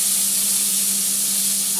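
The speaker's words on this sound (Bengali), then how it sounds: "আমি ফোড়ন দেবো হচ্ছে এর মধ্যে 5 ফোড়ন চাটনিতে।" Panch phoron tempering spitting in hot oil for a chutney, a dense, loud, even hiss of frying close by, with no voices.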